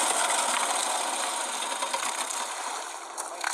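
A 5 horsepower GX200 clone engine on a homemade amphibious boat go-kart runs steadily at high speed, a loud, buzzy, continuous drone with a slight dip in level toward the end.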